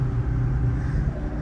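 Deep, steady engine roar of a 2000HP Lamborghini under hard acceleration, loud and close with a strong low rumble and no talk.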